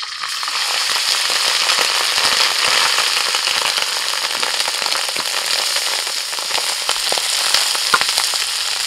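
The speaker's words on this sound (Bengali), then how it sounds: "কড়াইতে সাদা তেল দিয়ে ওর মধ্যে আমি ঘি দিয়ে দিয়েছি। এবার ভাত দিয়ে দিচ্ছি।" Rice frying in white oil and ghee in a wok for chicken fry biryani, a loud, steady, dense crackling sizzle that continues throughout, close up, with no voices.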